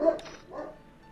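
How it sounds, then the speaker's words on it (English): A pet dog gives a single short, sharp bark near the microphone, followed by a faint trailing whine as the sound fades. "Here's my dog."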